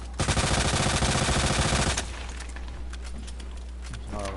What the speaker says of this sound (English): Shoot out the window